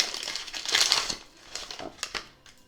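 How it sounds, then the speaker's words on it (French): Crinkly plastic or paper wrapping on a small, tightly packed deck of oracle cards is torn and crumpled open, with a loud burst of rustling followed by several sharper crackles and handling noises close up. "Et on va ouvrir le petit paquet."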